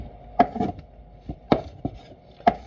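A knife slicing through raw meat on a wooden board for stir fry, heard as several close, distinct thuds at irregular intervals with quiet pauses between, no voices.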